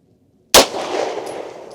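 A single sharp gunshot from a Beretta M9A1 pistol at a shooting range, loud and close, followed by a short ringing, echoing decay.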